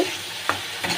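Yogurt-based masala for a tangra fish and potato curry sautéed in oil, a soft steady sizzle with a couple of brief scraping stirs, close and fairly quiet.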